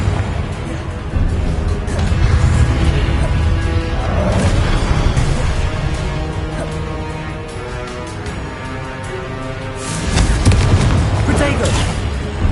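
Explosive Confringo spell blasts in Hogwarts Legacy rumble and boom amid constant loud battle noise, with a heavy blast swelling near the end and a voice talking throughout.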